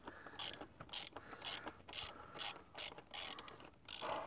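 A ratchet wrench with socket and extension loosening the oil filter on a Seat Ibiza, giving repeated rapid clicking bursts in a steady back-and-forth rhythm, close and clear with no talk.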